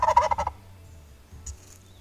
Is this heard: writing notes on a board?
no